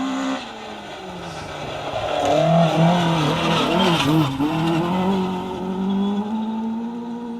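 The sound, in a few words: rally car (Nova) driving fast on a stage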